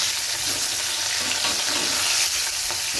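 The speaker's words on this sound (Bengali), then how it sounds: "মাছ ভাজতে দিয়ে দিলাম।" Hot mustard oil sizzles and crackles steadily as fish deep-fries, a dense continuous hiss up close.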